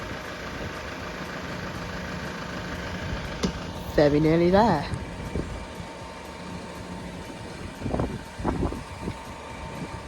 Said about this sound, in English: There's a tractor for you.